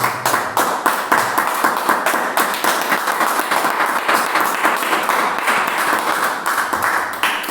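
A church congregation gives a steady round of hand clapping after a sermon, dense and moderately loud, continuing without a break and with no speech over it.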